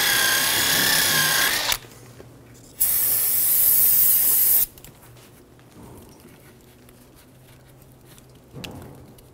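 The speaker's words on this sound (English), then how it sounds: "Using a clean rag and some parts cleaner" Aerosol parts cleaner sprayed onto rear brake and wheel-bearing parts of a 2007-2011 Toyota Camry, two loud hissing bursts of about one and two seconds each, close by, with a shorter faint spurt near the end and quiet between.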